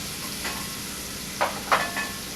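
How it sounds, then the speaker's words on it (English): Chopped onions sauté in a pan with a steady soft sizzle and a few brief stirring scrapes, close by and alone without voices. "we take some chopped onions, saute that"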